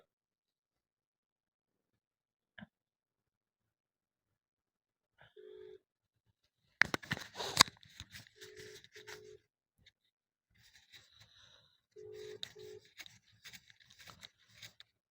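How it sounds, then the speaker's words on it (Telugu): Quiet handling clatter, then a few short electronic tones repeat in pairs as a phone call is dialed and rings on the line. "ఇప్పుడు ఆ అమ్మాయికి నేను ఫోన్ చేస్తున్నాను మీరు వినండి"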